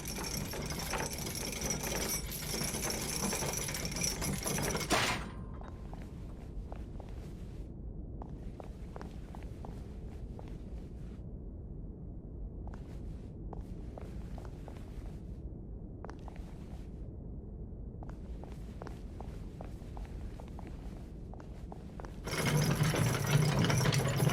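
A game elevator in We Happy Few running steadily, a low continuous mechanical rumble with faint rhythmic clicks as it travels, bracketed by louder ambient noise at the start and end.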